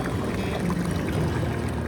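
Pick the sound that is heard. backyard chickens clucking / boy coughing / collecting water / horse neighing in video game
collecting water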